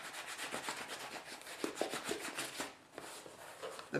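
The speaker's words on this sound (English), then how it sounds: "I've got the brown polishing sponge, hand inside shoe, and I am polishing" A brown polishing sponge is rubbed over a leather shoe with a hand inside, giving a steady run of soft, close brushing strokes with brief scuffs.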